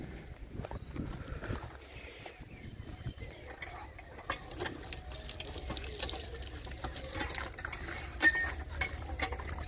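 Water pumped from a hand tube well in a Baruipur village into a bottle, a continuous splashing and trickling stream with faint creaks of the pump handle, close by, under outdoor ambience.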